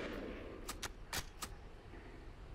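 Sniper rifle gunshots in the PC game Jonathan Kane: The Protector: four short, sharp cracks in quick succession, fairly faint under a steady background hiss.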